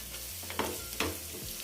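Spices with an onion and sesame masala frying in a pan, a soft continuous sizzle with a couple of light stirring scrapes and no talk.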